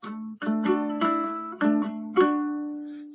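A ukulele strums a short chord melody phrase from a song, a few bright strummed chords with ringing sustain, close and fairly soft, the last chord left to fade.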